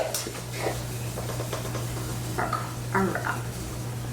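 A pot of raspberry filling heats on a stovetop, giving a soft steady simmer with a low hum beneath and a few light stirring and utensil clinks scattered through.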